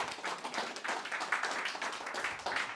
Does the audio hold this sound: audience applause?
yes